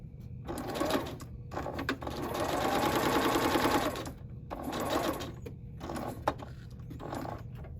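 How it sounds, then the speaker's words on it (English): A sewing machine stitches an L seam with a pivot, running in several bursts of rapid mechanical whirring separated by short pauses, with a brief click near the end. "Sew an L seam in the center."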